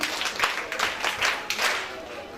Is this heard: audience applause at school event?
yes